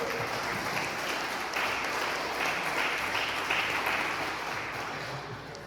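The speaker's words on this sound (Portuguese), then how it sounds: "Dá uma salva de palmas ao Senhor Jesus" A church congregation applauds Jesus during a sermon, dense continuous clapping filling the room at moderate level, fading slightly toward the end.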